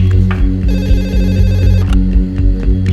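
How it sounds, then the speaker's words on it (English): A telephone rings late at night, a loud steady electronic ring in repeated bursts that fills the whole span, with no voices. "a late-night phone call wakes Dr. Bandari"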